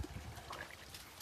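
Water runs faintly from a tap while clothes are washed by hand, a soft steady trickle heard briefly with no talking.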